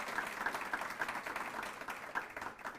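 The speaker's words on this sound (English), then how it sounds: "Please can we give her a round of applause as she comes to the front" Faint, scattered applause rises from a conference audience at a youth environmental event, with thin, uneven clapping that stays quiet and distant throughout.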